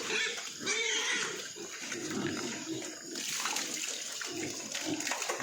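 Pigs grunt and snuffle at a feeding trough, a continuous close jumble of low grunts and wet slurping, fairly loud with no talk.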